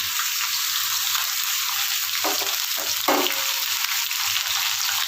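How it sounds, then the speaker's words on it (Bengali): Chopped onion drops into potatoes already frying in oil, giving a loud, steady, close sizzle with a couple of brief scraping stir sounds partway through. "এবার আমি কেটে রাখা পেঁয়াজটা দিয়ে দিচ্ছি"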